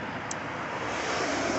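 Constant broadband roar of passing road traffic, loud and even throughout with no breaks or distinct vehicles standing out, and no speech.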